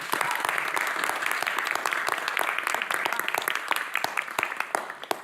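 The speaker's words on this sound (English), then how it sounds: "I'd like to give Commissioner Durrett and Commissioner Jay a round of applause" A round of applause for two county commissioners at a public meeting, many hands clapping steadily at close range for about five seconds, dense and even throughout with no voices over it.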